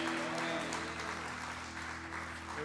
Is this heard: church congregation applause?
yes